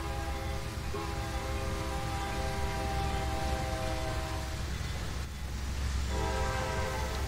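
Simulated Amtrak and Union Pacific trains race in the Trainz railroad game, sounding a sustained multi-tone horn over a steady rumbling rail bed. The horn briefly breaks off and then resumes.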